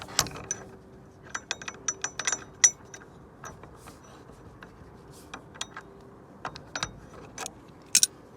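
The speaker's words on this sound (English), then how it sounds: "We're going to tighten that nut back up." A nut being tightened on a metal gate bracket with a wrench, producing sparse, sharp metallic clicks and ratchet-like ticks in small irregular clusters against a quiet background.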